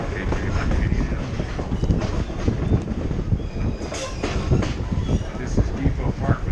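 A train rolls into the old Santa Cruz rail yard with a loud, continuous rumble, clacking wheels over track joints and occasional metallic squeals, heard up close.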